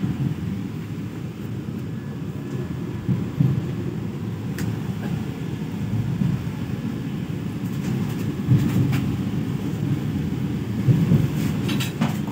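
A Vande Bharat Express train, Hubballi–Pune service 20669, at Sangli station's platform 3 gives a continuous low rumble with faint clicks and knocks from the rail cars, fairly close and steady, with no talk.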